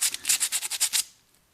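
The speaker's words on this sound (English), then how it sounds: "I'm just taking the sandpaper and then just clear it out" Quick back-and-forth strokes of sandpaper on a Maico 660 two-stroke dirtbike transmission part, about eight close, bright scrubbing passes before falling silent.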